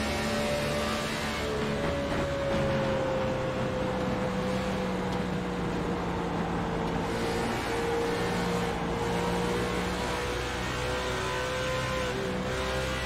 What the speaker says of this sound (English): you can listen to his engine there